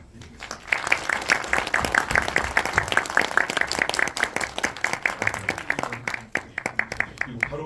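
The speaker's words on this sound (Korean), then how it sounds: "큰 박수 부탁드립니다" A theatre audience at a university film-club screening and director talk breaks into sustained applause, dense clapping close and steady for several seconds before thinning out toward the end.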